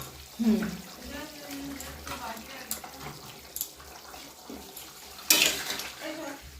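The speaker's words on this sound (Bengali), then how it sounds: "মাছের ঝোলটা ফুটে গেছে, এবার আমি মাছগুলো দিয়ে দেবো।" Pieces of pangas and tengra fish going into a pot of boiling fish broth: steady bubbling and watery churning, with a sharper splash-like burst near the end.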